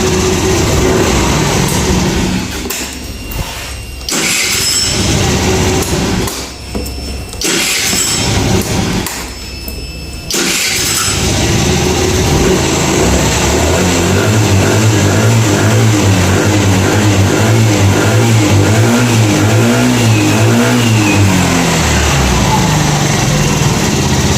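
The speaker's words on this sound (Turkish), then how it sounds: "devir saatimiz de 9000 rahat bir şekilde çeviriyor" A motorcycle engine being worked on during repair for loss of pulling power and not running, revving hard and high toward about 9000 rpm with sharp throttle blips that break off, then holding a loud, steady, sustained roar up close.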